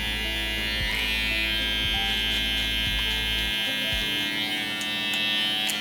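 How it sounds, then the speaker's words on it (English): Cordless hair clipper run without a guard while cutting a mid taper, giving a steady close electric buzz with a strong mains-like hum that drops away near the end, alone without talk. "no guard, just straight clipper"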